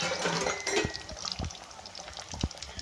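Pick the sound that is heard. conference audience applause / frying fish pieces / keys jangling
frying fish pieces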